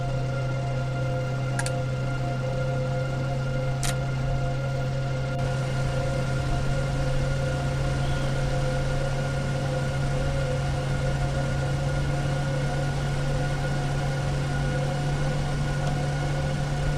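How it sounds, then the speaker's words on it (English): Four aircraft engines idling together before taxi, a loud, steady droning hum with fixed tones that holds unchanged throughout, with two brief clicks early on. "got all 4 engines started here. We'll let them warm up a little bit before we start our taxi"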